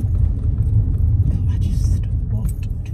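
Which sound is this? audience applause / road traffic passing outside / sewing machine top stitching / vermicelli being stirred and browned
road traffic passing outside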